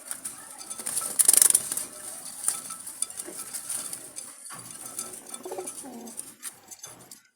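Jalali pigeons coo softly in the background amid rustling and a few metallic clinks, with a brief louder flutter near the start.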